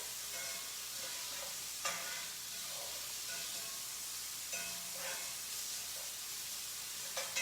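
Chicken pieces sautéing in a pan for coq au vin: a steady close sizzle with occasional soft stirring scrapes and clicks, no talking.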